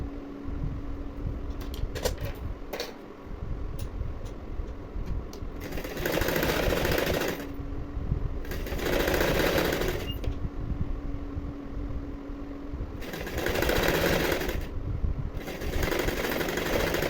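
A sewing machine stitches the hook strip of a lined blouse in close, loud bursts of rapid needle clatter separated by short pauses, with a faint background hum.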